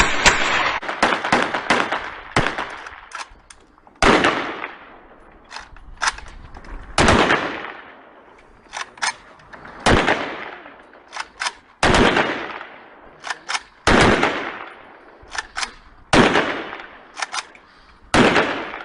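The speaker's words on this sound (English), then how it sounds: "3 masked men fire a volley of shots over the coffin of a former member" Sharp gunshots ring out from three masked men firing a volley over a coffin, with loud reports in quick clusters and single cracks spaced across the stretch, each followed by a short echoing decay outdoors.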